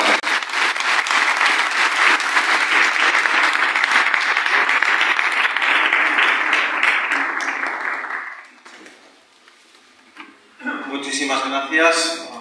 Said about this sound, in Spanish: Recibimos al Padre Diego León Fioravanti con un fuerte aplauso.